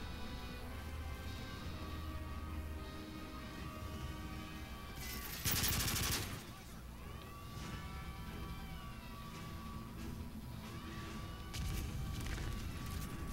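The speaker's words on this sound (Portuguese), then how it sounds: "tem um cara lá atrás dando tiro em mim" Gunfire in Call of Duty Modern Warfare 3 during the "Hunter Killer" mission: steady game action with a loud burst of shots and a crash around the middle, then more shooting toward the end, with no talking.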